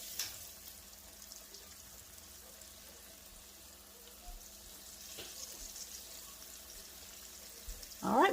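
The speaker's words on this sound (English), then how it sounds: "I just want to brown them good on each side" Chicken pieces brown in hot oil for creamed chicken, a faint, steady sizzle and crackle held low throughout, with a louder burst of sound right at the end.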